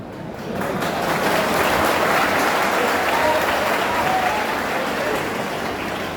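Audience applause at a university lecture, a dense sustained wash of many hands clapping that rises quickly, holds steady and loud for several seconds, then eases slightly at the end.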